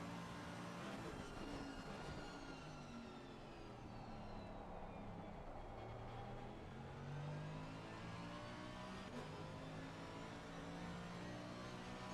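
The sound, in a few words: race car engine revving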